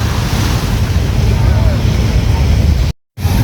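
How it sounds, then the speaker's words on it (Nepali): Sea waves wash against the shore in a continuous loud rush, heavily buffeted by wind on the microphone and briefly cut out near the end. "समुद्रको छाल हेर न"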